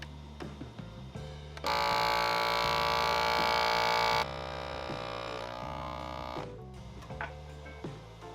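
A FoodSaver vacuum sealer set to marinade mode runs with a steady electric hum and rhythmic pulsing. A louder, brighter pump roar kicks in for a few seconds and then drops back to the lower hum, with no talking.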